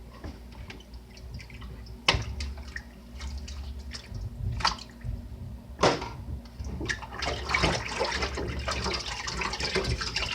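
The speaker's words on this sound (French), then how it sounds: "Je suis en train de laver les plats" While dishes are washed at a sink, tap water drips and splashes in scattered bursts with a few sharper knocks, then settles into a steadier, fuller running stream toward the end.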